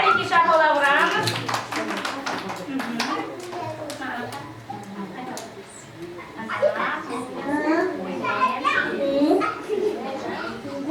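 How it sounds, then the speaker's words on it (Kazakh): At a kindergarten celebration, children and adults clap their hands in a quick flurry of sharp claps, then the clapping fades beneath children's chatter and an adult's voice. "Кәнеке шапалақ ұрамыз."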